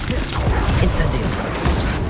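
Casting the Incendio fire spell in the video game Hogwarts Legacy produces a loud, dense roaring whoosh with rumbling bursts that fills the whole stretch without letting up.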